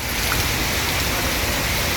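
A dense, even downpour of heavy rain at a bus depot in Palembang, a loud, steady wash of hissing water with no voices over it.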